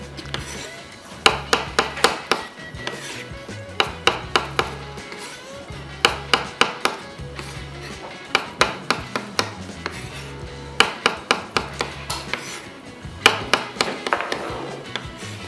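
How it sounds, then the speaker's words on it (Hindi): Knife slicing mushrooms on a cutting board in a home kitchen: steady runs of crisp, close chopping taps in quick bursts, with music playing underneath. "सो मशरूम सबसे पहले स्लाइस"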